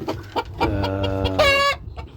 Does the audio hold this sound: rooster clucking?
yes